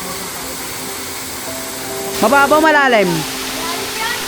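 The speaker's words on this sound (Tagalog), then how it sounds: "Rinig na rinig ko na yung falls." Palsahingin Falls roars as a steady, loud wash of water noise, with a voice speaking briefly over it partway through.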